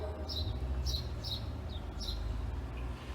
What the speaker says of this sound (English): I'm listening to birds.